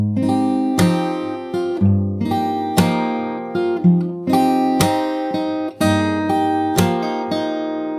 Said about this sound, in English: but you just have to add the percussive slap.